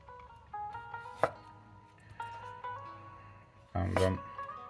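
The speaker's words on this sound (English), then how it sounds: "the way I chop these is slice them in half" A knife slicing red cabbage on a cutting board, a couple of sharp chopping knocks, the last one a heavier crunching cut, with a voice talking throughout.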